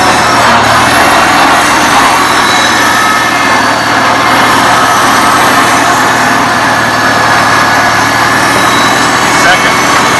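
A restored 1975 International Farmall Cub tractor runs in reverse gear close by. Its engine gives a loud, steady drone that holds without a break, and no one speaks.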